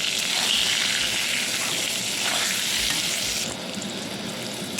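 Constant sizzling of eggplant with salt and turmeric frying in hot oil, close and fairly loud, easing slightly near the end.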